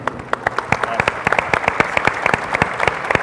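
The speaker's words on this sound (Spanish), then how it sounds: "Con un fuerte aplauso" An audience applauds a speaker being introduced at a formal panel event, a dense, steady burst of claps that stays even and moderately loud throughout.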